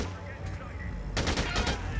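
Assault rifle fire in Dead Rising 2: Off The Record, a sudden close burst of rapid shots in the second half over a low game background.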